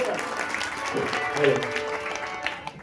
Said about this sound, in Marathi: म्हणून एकदा जोरदार टाळ्या वाजवा, जोरदार.